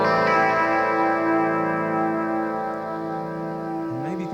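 Electric guitar chord played through a Boss pedal set to a very gentle phasing effect, sustained and ringing with a slow, subtle swirl, then a short sliding note at the end.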